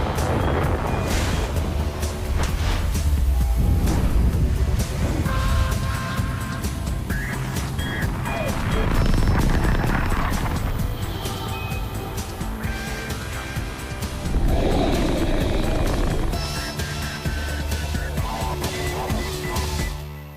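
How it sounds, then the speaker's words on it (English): A SpaceX Falcon 9 rocket lifts off with a loud, sustained roaring rumble that crackles and surges for about twenty seconds without letting up. "liftoff of Falcon 9."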